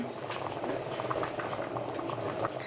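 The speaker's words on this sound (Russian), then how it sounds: "Перец закипел" A pot of hot pepper mixture bubbling at a steady, vigorous boil close up, with continuous popping and gurgling and a low voice faintly underneath.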